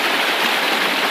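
Fast-flowing stream water at a gold-prospecting spot over bedrock, a steady broadband rushing and gurgling that fills the whole short stretch at close range with no voices.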